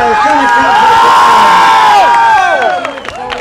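A crowd cheers and shouts loudly at a Bulgarian 1000cc motorbike race awards ceremony. The noise is steady and dense throughout, with voices rising in a sustained swell before easing slightly near the end.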